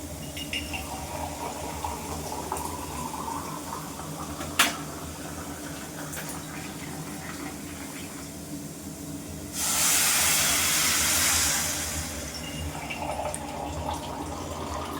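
Water poured into a hot pan while cooking vermicelli sets off a sudden loud sizzling hiss that lasts a couple of seconds and then fades, over steady kitchen background noise.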